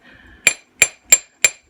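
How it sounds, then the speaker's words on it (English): A chasing hammer taps a wire-frame earring four times at an even pace, each strike a sharp, close metallic tap with a brief ringing clink, the blows separated by silence. "we're using a chasing hammer, and we're just going to tap the whole piece"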